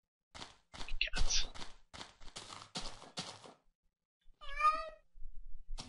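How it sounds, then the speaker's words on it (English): A Minecraft cat gives a single clear meow after a stretch of blocky thumping and footstep-like game sounds, the cry standing out alone near the end. "Cat."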